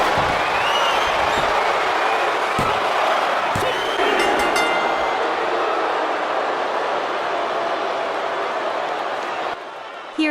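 A WWE 2K24 wrestling crowd roars steadily near the end of a Money in the Bank match, a loud continuous din that fades slightly at the finish, with voices talking over it.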